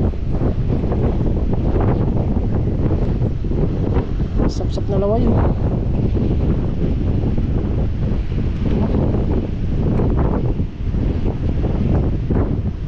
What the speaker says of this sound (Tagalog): Taas na ng hangin.